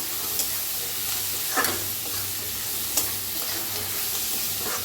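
Leftover rice fries in a pan for egg fried rice, a steady close sizzle with occasional stirring scrapes and small crackles throughout.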